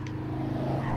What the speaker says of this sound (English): Okay, that's a motorcycle.